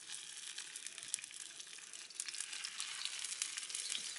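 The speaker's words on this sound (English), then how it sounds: "So pop these on. There we go, sizzling already." Steady, dense sizzling of sausages frying in a hot pan, a crackly hiss with small pops throughout, close and moderately loud with no talking.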